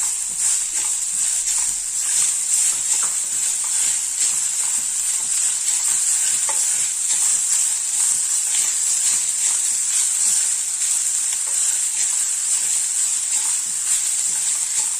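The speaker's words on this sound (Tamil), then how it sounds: "சிம்லேயே வச்சுக்கிட்டு கலருங்க. அப்போ தான் பிடிக்காமல் ஒட்டாமல் வரும்." Coconut rice is stirred in a pan over a low flame. A constant bright sizzle runs throughout, with light scraping ticks from the stirring.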